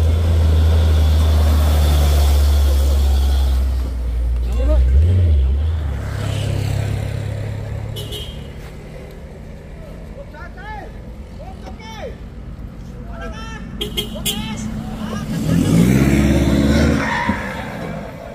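A Hino truck labouring up a steep hill: a loud, low engine drone close by that fades into the background, with someone talking over it and more voices and roadside noise later.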